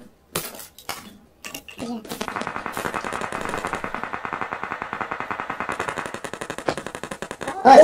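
Automatic gunfire in the mobile game PUBG Mobile, a long rapid burst of evenly spaced shots after a few scattered single cracks, loud and close, with voices talking over parts of it.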